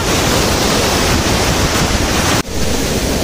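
Waterfall at Chicholi roaring in a loud, unbroken wash of falling water that fills the whole stretch, close by and steady, with a brief dip near the end.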